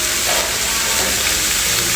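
Steak sizzling in butter on a hot iron plate at a Japanese steakhouse, a steady loud crackling hiss with no pauses, close up.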